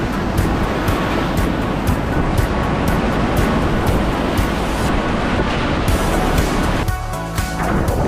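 Whitewater rapids on the Thompson River roar in a dense, steady rush, loud and close, with gusts of wind buffeting the microphone.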